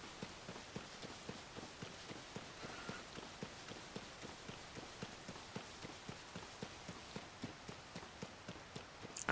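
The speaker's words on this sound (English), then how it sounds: "I don't want that horse." Steady clip-clop of horse hooves from Tears of the Kingdom, a regular galloping rhythm of soft repeated hoofbeats, fairly quiet and continuous with no talking over it.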